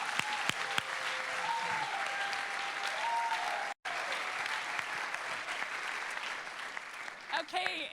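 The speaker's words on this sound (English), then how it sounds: "let's give her a clap" Sustained applause from a seated audience for a woman being introduced at a ship-based training session, a dense, even wash of clapping with a short break midway and a few voices near the end.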